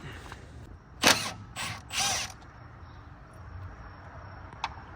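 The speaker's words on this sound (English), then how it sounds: "We're gonna try to take off that second bolt right there." A wrench works loose a bracket bolt on a car engine, with a few sharp ratcheting bursts and a short creaking turn close by, then quiet with a faint tick.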